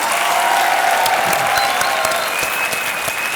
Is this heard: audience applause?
yes